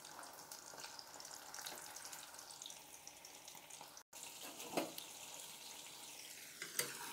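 Stingray fish pieces fry over moderate heat in hot oil, giving a faint, continuous sizzle and crackle with occasional sharper pops, briefly dropping out midway.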